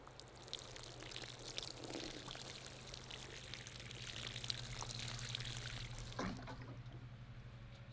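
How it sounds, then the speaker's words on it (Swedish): Water poured from a container onto a garden bed of sweet corn makes a continuous splashing, trickling flow that lasts several seconds and stops abruptly near the end, with no talk. "Nu ser vi på lite vatten också."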